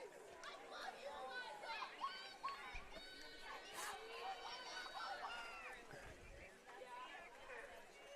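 A crowd cheering at a varsity swim meet during a heat of the 100-yard breaststroke at an indoor pool, a steady roar of shouts and chatter that echoes around the hall, with a voice speaking close by.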